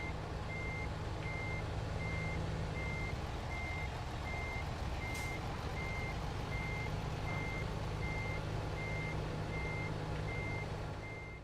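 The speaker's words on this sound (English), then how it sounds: "if you're gonna let me back up my truck" A truck backing up in a video game parking lot gives a steady, evenly spaced string of electronic reversing beeps over a constant low engine hum, sustained and clear with no talk.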